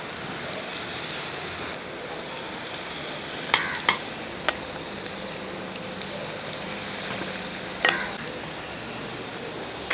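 Chicken frying in a pan, a steady broad sizzle that runs for the full length, with a few sharp clicks and clatters of a utensil stirring or turning the pieces.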